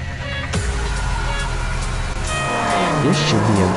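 An Aston Martin One-77 races a Ferrari in Real Racing 3, a steady loud engine drone with a sharp rise and shifting revs near the end.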